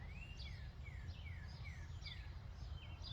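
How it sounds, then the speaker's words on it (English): Faint birdsong outdoors by a compost pile: a bird repeats a short, rising and falling whistled phrase several times over a steady low background hum. "You can hear the birds in the background."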